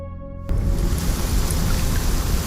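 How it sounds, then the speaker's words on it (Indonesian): Steady rain, a sound effect in a narrated story, begins abruptly after a half-second of tonal music and continues as a dense, even hiss of drops on a surface, loud and close, with no voices. "Saat itu, hujan pun turun rintik-rintik dengan udara yang dingin."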